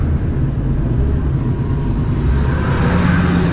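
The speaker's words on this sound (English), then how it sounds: "Here comes one of my trucks now." A truck rolls past coming down a hill with a steady low engine rumble, fairly loud and even throughout, with no braking noise or talk.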